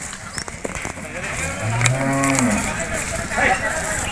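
A buffalo at a Sunday buffalo market in Erragadda moos once, loud and drawn out, over steady crowd and market noise.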